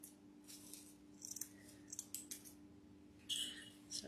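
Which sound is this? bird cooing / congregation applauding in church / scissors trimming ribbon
scissors trimming ribbon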